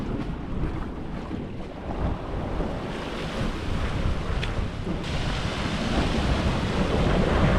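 Sea waves at Bridgewater Bay roll and wash in a continuous broadband rumble, close to the shore, with wind buffeting the microphone and the surf swelling louder toward the end.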